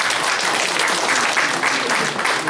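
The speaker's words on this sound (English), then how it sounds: "Give him a big round of applause" A lecture audience at a Taiwanese public talk and Q&A on democracy gives the speaker a big round of applause: a brief, dense burst of many hands clapping steadily at close range, with no talk over it.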